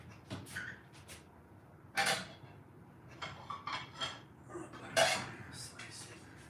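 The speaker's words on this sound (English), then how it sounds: "Now I'll get a plate." Dishes clatter as a plate is taken out in a kitchen, with a few sharp clinks and knocks spread across the moment, moderately close and fairly quiet.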